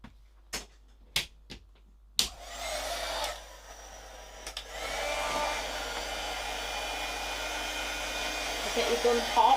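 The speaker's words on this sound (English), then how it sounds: "And then let's dry this off with our gun." A heat gun dries a freshly painted craft project touched with pink. A few sharp taps and clicks come first, then a steady, close, whooshing blow starts and holds to the end.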